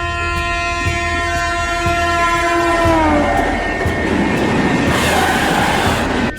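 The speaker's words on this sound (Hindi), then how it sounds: "तब तक इधर ट्रेन भी आ जाती है" A train pulls into a railway station with a long, loud horn whose tones bend downward, over heavy rumbling wheels and rising clatter as it draws near.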